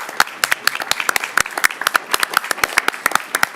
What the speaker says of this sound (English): I would like to clap and applaud this committee